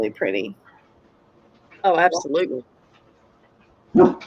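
A dog barking at unexpected visitors in a home, giving a few short bursts of barks with pauses between them, close by, while people talk.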